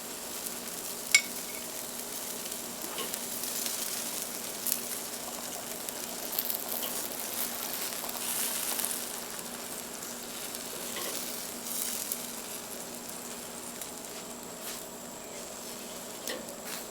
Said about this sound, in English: Nice and bubbly and sizzly.